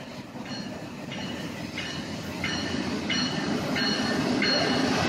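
A Norfolk Southern Dash 9 locomotive passes at close range, a steady loud rail rumble with rhythmic wheel clatter recurring about every half second and rising slightly in level toward the end.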